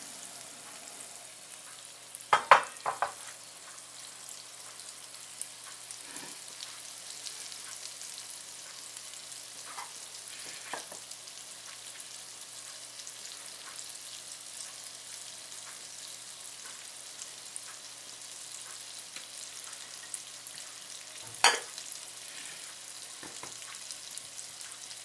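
Butter melting in a frying pan just wiped after cooking fish gives a steady, quiet sizzle with a few louder clatters of pan or utensil; no talking.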